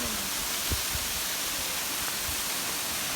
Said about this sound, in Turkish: Çağlayan Biliş Şelalesi'ndeyiz.